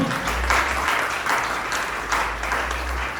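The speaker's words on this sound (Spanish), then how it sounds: "Den un aplauso al Señor" A church congregation claps together during a Spanish-language sermon on family discipline, a loud, sustained burst of applause that swells in waves, with a low hum running beneath.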